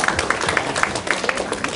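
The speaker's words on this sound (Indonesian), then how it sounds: "Tepuk tanganlah." An audience claps at a poetry event, a brief scattered patter of hands, moderately quiet and a little uneven.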